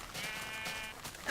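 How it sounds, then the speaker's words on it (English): A sheep in the video game Minecraft gives a single close bleat with a wavering tone, followed by a brief rising noise at the end. "I got me a little herd of sheep now."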